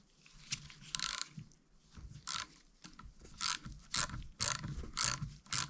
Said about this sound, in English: I'm going to use a T15 Torx here to carefully remove the screws on each of the